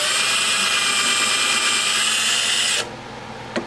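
A power drill whirs steadily into a damaged Martin acoustic guitar whose glue is still wet. The loud, continuous drilling runs for nearly three seconds, then cuts off abruptly, leaving a quiet room with one brief knock.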